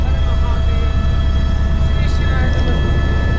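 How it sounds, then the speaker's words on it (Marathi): A loud, steady helicopter drone hums continuously with a constant low rumble and whine as the helicopter lands, while a voice talks over the engine noise. "हे बघा, हेलिकॉप्टर उतरला."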